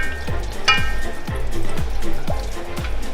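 A pan sizzles steadily as stock is poured in to deglaze it for huevos rancheros, with a busy frying hiss and repeated low thumps and scrapes as the pan is stirred.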